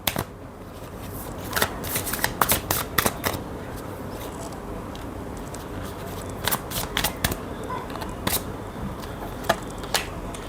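Tarot cards are shuffled close by in quick riffling bursts and soft taps, several clusters of crisp clicks spread over the span with quiet gaps between.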